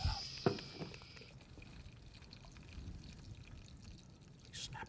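Butter sizzling in a hot pan: a steady, faint crackling hiss that runs unbroken, with a few louder pops near the start.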